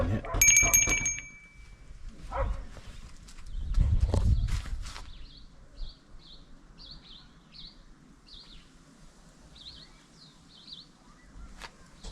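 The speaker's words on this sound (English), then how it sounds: "Let's ring the bell." A door bell at the Market Mooi coffee shop in Elim, South Africa, rings with a short bright metallic chime near the start, followed by handling noise, a low thump and scattered outdoor bird chirps.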